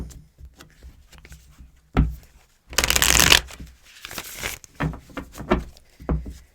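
Tarot cards are shuffled by hand in a steady run of soft riffling flicks, with one louder burst of rapid riffling in the middle, close up and alone.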